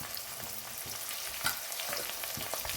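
Ginger, garlic and cardamom paste sautéing in hot oil for a mushroom pulav, a steady close sizzle and crackle with occasional stirring scrapes, no voices.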